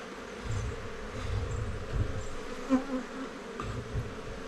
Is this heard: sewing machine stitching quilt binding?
no